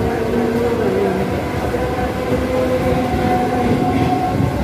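An Indian passenger train runs steadily near the Benapole–Petrapole border, with a continuous loud rumble and rattle of carriages on the rails and faint clickety-clack throughout, with no talk.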